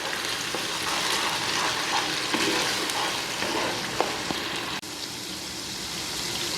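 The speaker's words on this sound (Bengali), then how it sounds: "এরপরে আমি দিয়ে দেব এই টমেটো পেস্টটা। তারপর নাড়িয়ে নেব ভালো করে।" Tomato paste fries and is stirred in a pan while making chicken momo; a steady, close, loud sizzle runs throughout with occasional scraping stirs.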